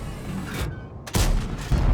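A tank fires its gun in a video game, a short heavy boom landing midway and followed by another thump near the end, set against a constant background rumble.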